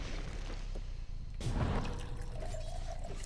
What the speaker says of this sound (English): Pour myself some more water.